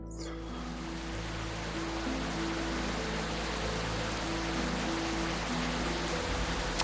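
Steady, dense rain pours without pause in the indie video game Rainswept, a constant hiss that starts abruptly and carries a soft sustained musical drone underneath.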